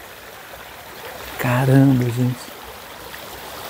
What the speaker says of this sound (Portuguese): Estão ouvindo o barulhinho da água?